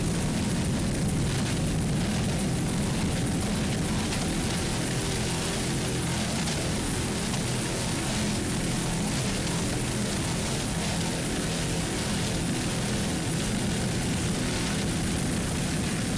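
A new 42-foot Fountain racing powerboat with Mercury engines roars at the 2004 World Championships in Key West, a constant loud broadband drone with wind and spray noise throughout, no voices.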